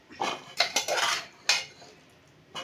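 A colored bowl is handled in a home kitchen while sundal is prepared, with several sharp clinks and clattering knocks of crockery close by, then a pause and one last clink.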